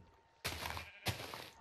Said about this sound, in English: that sheep scared the crap out of me!